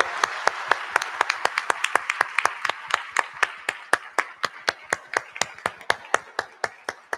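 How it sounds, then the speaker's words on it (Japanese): At a startup pitch event, the ICC Summit Fukuoka 2021, an audience claps in unison as single, evenly spaced claps that gradually quicken. The sound is fairly soft and somewhat distant. "大きな拍手でチャレンジャーの皆さん頑張ってくださいということで応援してください。"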